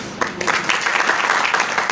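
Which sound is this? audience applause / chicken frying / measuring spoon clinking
audience applause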